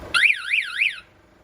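A car alarm goes off during repair work on a car in Uganda, a loud close electronic siren warbling up and down three times over about a second before cutting off.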